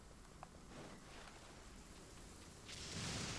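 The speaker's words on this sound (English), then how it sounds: "It's raining." Steady rain in the video game Genshin Impact, a continuous hiss of falling drops that swells heavier near the end, with no talk over it.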